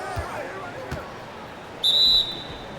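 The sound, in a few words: referee whistle for a foul in NBA 2K17 video game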